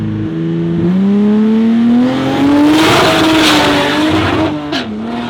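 A turbocharged Chevrolet Colorado truck launches hard at a rally race, its engine revving loud and close and climbing in pitch, with tire spin.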